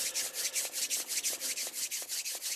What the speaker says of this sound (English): I think I'll do my little eye rubbing